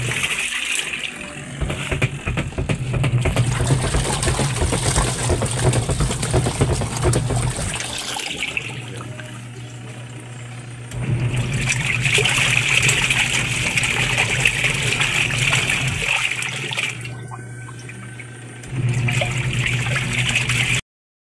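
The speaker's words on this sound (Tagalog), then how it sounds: "nag-dryer tayo, lumabas na yung tubig." Water gushes and drains in loud bursts from a Sharp washing machine with a dryer during repair testing, alongside a low mechanical hum, pausing and restarting a few times.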